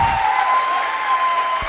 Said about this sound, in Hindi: ताली बजानी है तो अच्छे से बजा लो,